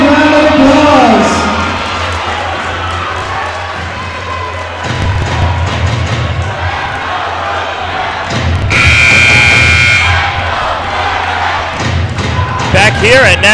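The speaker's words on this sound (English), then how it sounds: "let's give our cheerleaders a great big round of applause" Crowd noise and cheering in a college gymnasium during a CUNY men's basketball semi-final, with thuds and ball bounces mixed into the loud, steady roar of the crowd.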